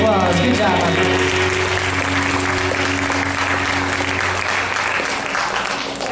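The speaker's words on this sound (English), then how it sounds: "Give yourselves a round of applause." Steady round of clapping from an audience, continuous and fairly even throughout, with a low hum and some voices underneath.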